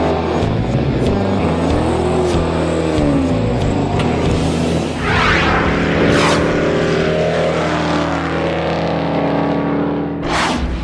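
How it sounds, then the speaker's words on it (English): A 1970 Dodge Challenger R/T with a 426 HEMI and pistol-grip four-speed runs loud and close, its deep engine rumble swelling through revs with no talking. "a 1970 Dodge Challenger RT with a 426 HEMI and a pistol grip 4-speed"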